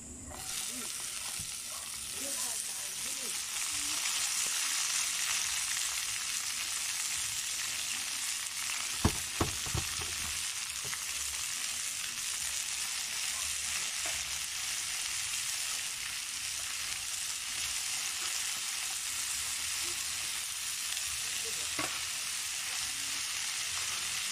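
Vegetables frying in a little oil with browned garlic in a mountain-style home dish, a dense continuous sizzle throughout with a few brief clinks of a utensil, no voices.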